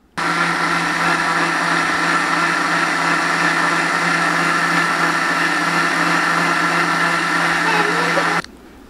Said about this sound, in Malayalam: ഇനി ഇത് നമുക്ക് മിക്സിയിലൊന്ന് അടിച്ചെടുക്കാം.